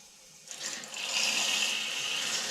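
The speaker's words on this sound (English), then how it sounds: "Got a big leak here." Water gushing from a leak in a 3/4 inch hose line feeding a micro hydro generator, a steady loud hiss and spray that starts abruptly and holds constant.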